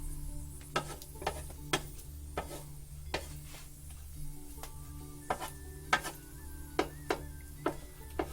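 Spicy cabbage and mushrooms fry in a wok-style pan for a Chinese dish, giving a steady soft sizzle broken by sharp, irregular clicks of a utensil stirring against the metal, with a low hum underneath and no talking.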